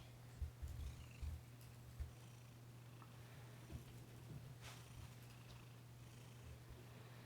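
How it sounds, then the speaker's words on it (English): A male cat purrs steadily while being brushed, a close soft rumble running throughout with a few light rustling bumps from the brush, and no talking. "And he is purring."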